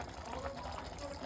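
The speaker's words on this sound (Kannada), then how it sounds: "ನೀರು" Water poured into a cooking pot while making chicken chilli in a home kitchen, a short, faint gushing splash heard close up.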